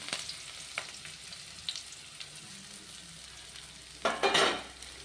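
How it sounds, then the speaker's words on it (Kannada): Onion and curry leaves go into hot oil, bringing a faint, steady sizzle with a few light clicks of stirring and a brief, louder hissing burst near the end. "ಇವಾಗ ಎಣ್ಣೆ ಕಾಯ್ದಿದೆಯಲ್ಲ, ಈರುಳ್ಳಿ ಹಾಕ್ತಾ ಇದ್ದೀನಿ, ಕರಿಬೇವು ಹಾಕ್ತಾ ಇದ್ದೀನಿ"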